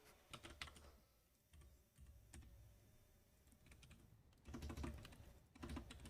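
Clicky computer keyboard typing in quick bursts and pauses, close and quiet, with no voice.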